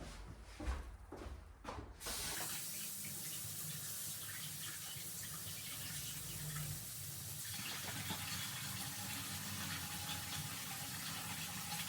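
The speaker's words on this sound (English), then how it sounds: "So let's go wash our hands." Hands being washed under a running kitchen tap while cooking meatballs; a few splashy handling sounds come first, then a steady, close rush of water runs to the end.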